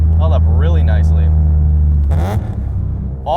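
A Euro-spec 1994 E36 BMW M3, essentially stock apart from an aftermarket exhaust, drones with a steady low engine and exhaust note that briefly swells, close by, while a person talks over it.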